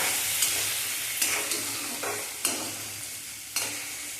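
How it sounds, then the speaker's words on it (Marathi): Onion and tomato sautéing in a pan for masala Maggi noodles, a loud steady sizzle punctuated by several crisp spatula scrapes at irregular intervals, with no voices. "चांगल्या प्रकारे हे परतून घ्यायचं आहे"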